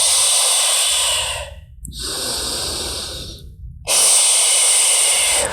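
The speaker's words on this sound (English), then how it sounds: "having that audible exhale, that type noise, can really help turn on that pelvic floor and those lower abdominals" Three forceful, breathy exhales from a person doing a standing pelvic-floor breathing drill, each a loud airy hiss lasting over a second with short gaps between, alone and close to the microphone.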